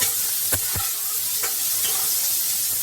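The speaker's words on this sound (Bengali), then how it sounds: "দেখুন আলুগুলোকে দিয়ে দিচ্ছি, আলুগুলোটা তেলের মধ্যে নাড়াচাড়া করে নেব।" Boiled potatoes are stirred through hot oil in a pan, a steady hiss of frying broken by a few distinct scraping knocks of the spoon, close by and without talk.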